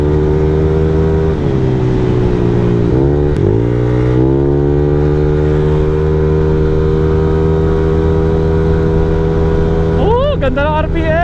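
A Honda Click i125 scooter engine drones loud and near, its tone dipping briefly a couple of times early on before holding a smooth, steady RPM for several seconds; a voice breaks in at the end.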